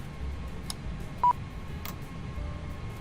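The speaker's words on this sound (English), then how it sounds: "The beeping is just GSX asking me to let them know that we had 2 good engine starts" Short electronic beeps from the GSX ground services add-on in Microsoft Flight Simulator, a quick pair of tones and a few faint blips over a quiet cockpit hum.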